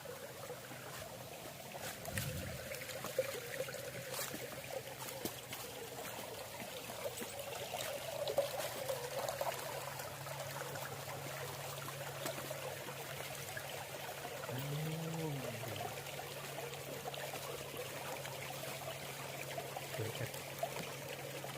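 Lan Rak waterfall in Nakhon Nayok, Thailand, a gentle walkable cascade, gives a steady soft rush and trickle of flowing water, with a brief faint voice partway through.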